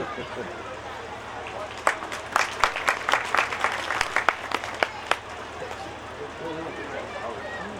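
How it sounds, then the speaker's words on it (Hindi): Audience at a religious Bhagavat katha gathering claps to welcome a state minister, a burst of sharp claps rising over steady crowd murmur and fading after a few seconds. "सभी लोग बड़े जोर से ताली बजा करके स्वागत करेंगे परम आदरणीय मंत्री जी का"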